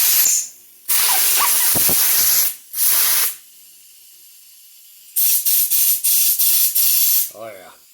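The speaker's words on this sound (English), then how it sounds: "Nothing like good old compressed air." Compressed air blasting Vespa P200E engine parts during a seized-engine rebuild of a 1979 Piaggio scooter: several loud hissing bursts, some long and some short, the final stretch a quick series of rapid puffs, with brief talk between.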